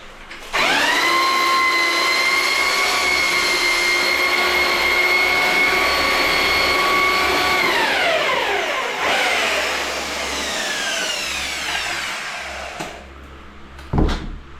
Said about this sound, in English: I've got the fan going, blowing a bit of cool air in because it's a bit warm today